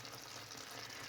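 Mutton korma cooking with ghee gives a quiet, brief, even sizzle, faint and continuous, ending in a short knock.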